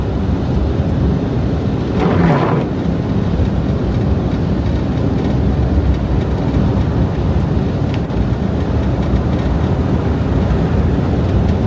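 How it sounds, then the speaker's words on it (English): Strong blizzard wind near an old train station roars in a loud, continuous low rumble, with a brief gustier burst early on and constant buffeting throughout. "here the wind is picking up like crazy"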